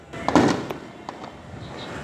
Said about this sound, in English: Fireworks. Fireworks. Fireworks. Fireworks.